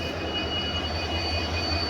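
The electric locomotive of the DonyiPolo Express gives off a steady, low mechanical hum with a constant electrical whine, even and unbroken throughout, no voices.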